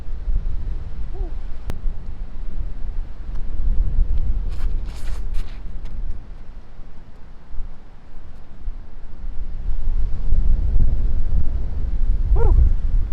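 Strong crosswind on a disc golf course buffets the microphone in loud, gusty low roars that swell and fade throughout, with a few brief higher rustles.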